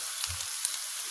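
Garlic and spices frying in a pan with a steady, close hiss of sizzling oil and a faint low clunk near the start, no voices.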